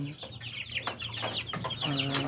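Muscovy ducklings and chicks at feeding time make a busy chorus of high peeping and soft clucking at close range. The calls overlap continuously over low background hum, with no talking.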